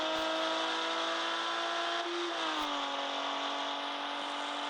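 A car engine drones at high, steady revs in a driving game, a smooth humming whine that dips briefly in pitch midway before settling again, with no talking.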